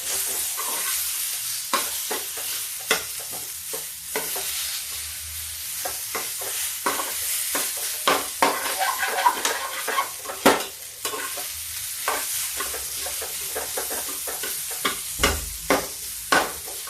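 Mashed boiled potatoes stir-fried on a low flame, with a steady soft sizzle broken by frequent sharp scrapes and taps of a spatula against the pan, close and fairly loud with no talking.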